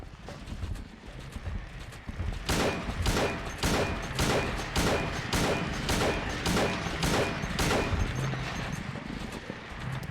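Gunfire in Silent Hill 2, a run of evenly spaced sharp shots, about a dozen in steady rhythm, loud and close after a quieter start, with no talk over them.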